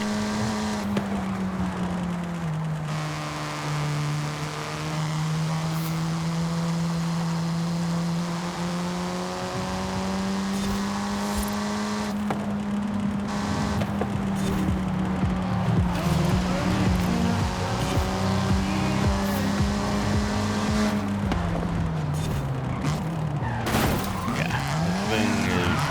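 A car in Forza Horizon 5 on a track day holds a steady, droning engine note that rises and falls gently, with bursts of tire squeal and skidding through corners and someone talking over it.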